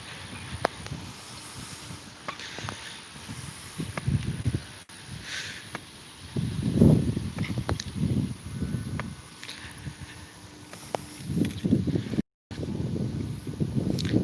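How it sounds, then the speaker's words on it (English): Outdoor wind buffeting a handheld microphone outside the Peach County Law Enforcement Center in Fort Valley, a steady rumbling, gusting roar with low thumps and scattered handling rustles throughout. "Is that wind noise too loud for you guys?"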